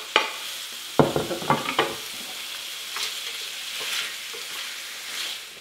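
Chopped tomatoes drop into squid frying in a pan, giving a burst of sizzling and a few stirring knocks and scrapes, then a steady hiss that keeps on with no talking.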